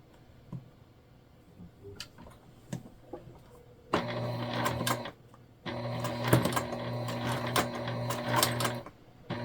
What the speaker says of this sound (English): we just need to tack it in place while we sew it